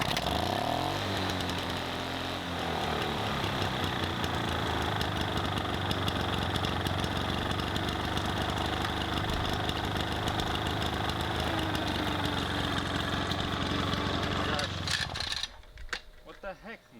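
A Toro GTS two-stroke push mower engine runs steadily and loudly up close with a buzzy, rattling drone, then sputters and dies near the end.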